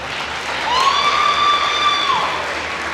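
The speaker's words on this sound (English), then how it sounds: "Let's give them one last round of applause." A crowd at a high school volleyball game applauds in the gym during homecoming court introductions, steady clapping with a faint cheer, while a sustained whistle-like tone rises and hangs in the middle.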